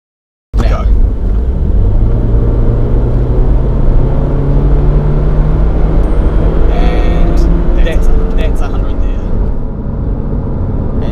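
A 2014 Subaru Legacy 2.5i with SI-Drive accelerates hard from a launch, its engine note climbing steadily in a loud, continuous drone that holds strong for the full stretch.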